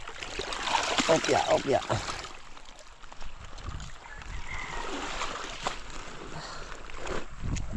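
Strong irrigation water gushing and splashing across a farm field, a steady rushing flow with people talking over it throughout.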